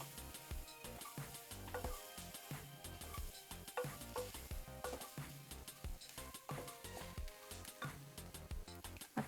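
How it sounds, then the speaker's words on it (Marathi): Whole spices dry-roasting in a pan for a spicy brinjal and potato rassa, with a steady close sizzle and repeated stirring scrapes and clinks throughout, no voices. "आता हे मसाले भाजून घ्यायचे."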